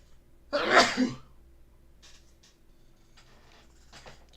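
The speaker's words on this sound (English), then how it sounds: "2 sneezes and you're out" One loud, sharp sneeze close by, followed by quiet rustling and faint background noise.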